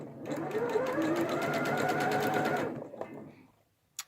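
Straight stitch sewing machine running steadily at speed with a rapid, even needle chatter and motor whir for about two and a half seconds, then stopping, close and moderately quiet.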